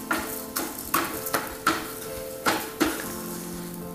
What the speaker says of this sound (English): Saute that in.